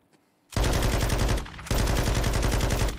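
Loud sustained automatic gunfire in the video game Warzone, erupting after half a second of near silence, dipping briefly, then resuming as a dense continuous volley.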